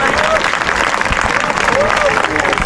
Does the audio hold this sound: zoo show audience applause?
yes